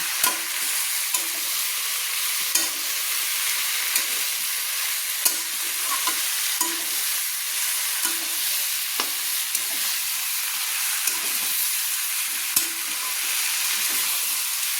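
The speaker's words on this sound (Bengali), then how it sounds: "সব মশলা দিয়ে আমি একসঙ্গে ভালো করে নেড়ে নিচ্ছি" Fish curry vegetables and spices being stirred in a pan over a steady, loud frying sizzle, with a spoon scraping and tapping the pan at regular intervals, close up.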